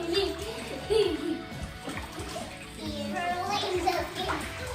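Slime is swirled by hand through warm bath water in a tub, making soft sloshing and gooey splashing close by, mostly under children's voices talking and chattering.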